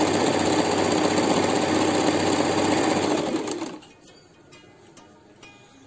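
Sewing machine stitching a kitchen napkin hanger runs in a steady, loud, fast rhythm for about three and a half seconds, then stops, leaving faint quiet clicks.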